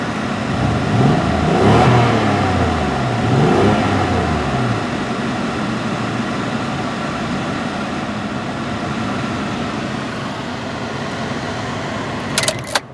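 A 2003 Honda Accord engine idles roughly with an uneven, skipping, stumbling rhythm, loud at first, then settling into a steady rumble before a few clicks.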